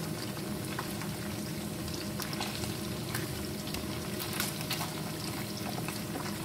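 Pieces of finger fish fry in hot oil with a steady, dense sizzle and crackle, close and continuous throughout, with occasional sharper pops and no talking.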